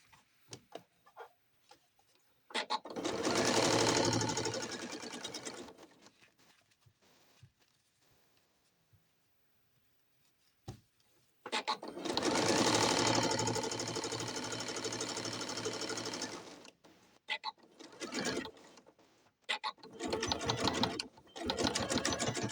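A sewing machine stitches a seam on leggings in two long, steady whirring runs and a few short bursts, with quiet handling and pauses in between.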